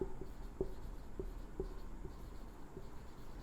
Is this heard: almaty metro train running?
no